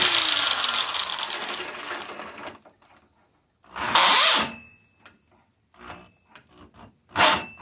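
A failing Craftsman 15 amp plug-in drill runs with a harsh whine, then stops, and is followed by several short bursts of grinding mechanical noise with gaps between them. No one speaks.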